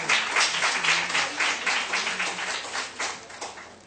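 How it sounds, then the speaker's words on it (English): An audience applauds a panel discussion on empowering women for sustainable development, steady loud clapping from many hands throughout with no talk over it. "A big round of applause for them"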